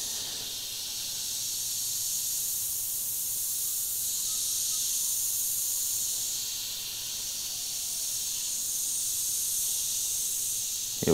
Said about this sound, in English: So only minimal air flowing out of the front of the airbrush.